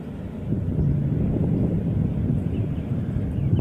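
Low, steady rumble of light wind buffeting the microphone outdoors on a sunny day beside the Vistula River, constant and fairly loud with no voices.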